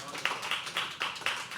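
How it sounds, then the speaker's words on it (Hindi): Audience at a poetry open mic at The Habitat clapping, a brief burst of sharp, evenly spaced claps in a quick rhythm. "तालियां भाई"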